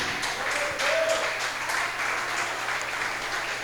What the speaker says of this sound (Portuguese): Você pode dar um glória a Deus e aplaudir Jesus bem forte?